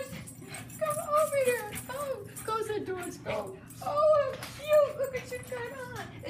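A dog dressed in a Santa outfit with a hat whimpers in repeated high, wavering whines, close and fairly loud, while people talk and exclaim nearby.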